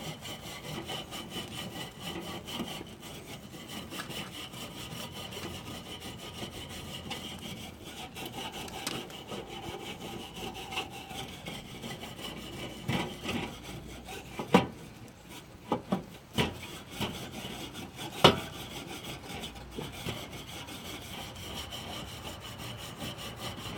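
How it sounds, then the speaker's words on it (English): A grill surface is scraped clean with repeated rough rasping strokes, fairly quiet and close, with a few sharper clanks partway through. "I'm just going to clean off the grill on this side so I can get a nice clean surface to grill on"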